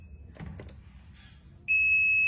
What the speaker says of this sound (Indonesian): Buzzer akan menyala di sini